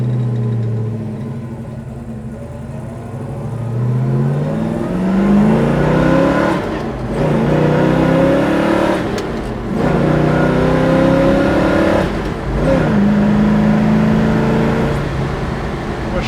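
A 1966 Chevrolet Chevelle SS with a big-block V8 revs hard and loud, alone in the recording. The pitch climbs and falls in several repeated sweeps, with brief drops between the bursts.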